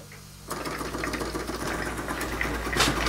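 A Bowman E158 model steam engine starts running after a quiet moment, breaking into a fast, even mechanical chuffing and clatter that stays close and steady to the end.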